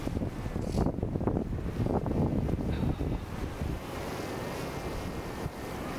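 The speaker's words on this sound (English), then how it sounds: "And it is blowing snow." Wind gusts across the microphone during a snowstorm with blowing snow, a loud low roar that swells and eases without a break, close and unsteady, with no voices.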